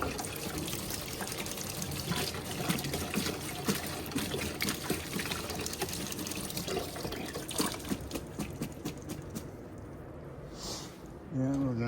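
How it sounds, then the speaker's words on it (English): Beans rinsed under a running kitchen tap in a soup kitchen setting, a steady trickling and splashing of water with occasional clinks. A voice talks over the water, and near the end the flow briefly gets louder. "Give those a good little rinse."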